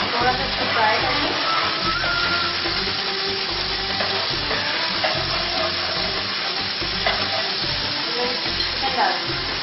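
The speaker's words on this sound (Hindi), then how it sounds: "थोड़ा सा इसको फ्राई करेंगे।" Chicken dish ingredients with a spice paste fry and sizzle in a pan: a steady, close hiss with occasional crackles and stirring scrapes throughout.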